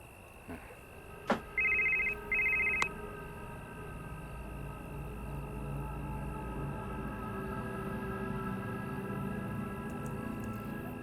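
A telephone rings twice in short electronic trills after a couple of sharp clicks, then a steady low hum continues alone.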